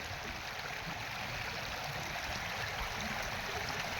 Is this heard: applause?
no